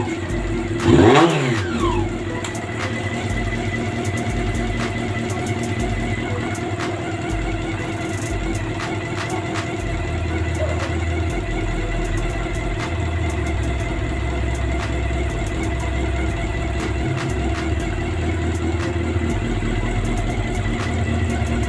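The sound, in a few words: Honda CB400 motorcycle engine running with chain ticking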